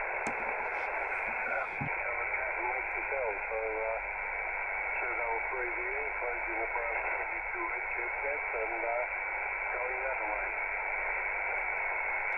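Amateur radio receiver audio from a remotely controlled station tuned near 3876, a steady band-limited hiss with faint, garbled voice transmissions running through it continuously.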